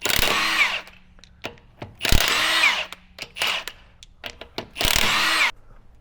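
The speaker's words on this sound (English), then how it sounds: "if you're lucky enough like me to have a rattle gun, then just" An impact wrench hammers off wheel nuts in several loud, close bursts of rapid rattling, each lasting about a second, with short pauses and quieter clunks between them.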